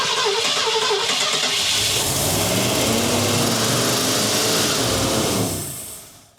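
Cranking and running attempt on the engine of a 1986 Ford F250 pickup that had sat unused for years, a loud continuous rough engine roar held at high revs before cutting off abruptly near the end.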